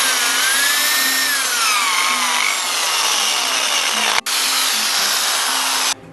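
A power drill bores a pre-drilled hole into a pallet wood end plate, a loud continuous whine with a pitch that shifts as the bit cuts, briefly dropping out before spinning on again.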